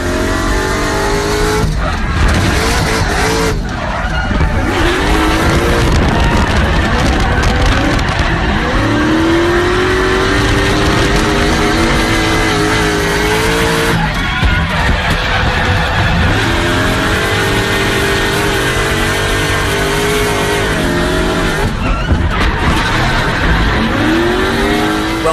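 Onboard a 1UZ V8-powered Nissan S13 drift car on Luxio Vitor tyres, the engine roars loud and constant, revving up and down through repeated throttle swells with tyre squeal layered over the continuous drone.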